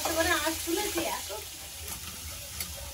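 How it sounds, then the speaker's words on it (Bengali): Snakehead fish frying in hot oil in a village kitchen, a continuous crackling sizzle with a clattering stir near the start, while a voice talks over it in the background. "নিয়ে ওদিকে শোল মাছটা ভাজবো।"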